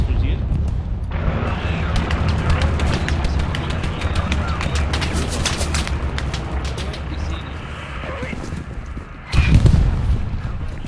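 Gunfire rattles and explosions thud through a battle at Carentan in the World War II shooter Hell Let Loose. Rapid shots and rumbling booms run continuously, and a heavier blast hits near the end. Voices can be heard faintly under the combat.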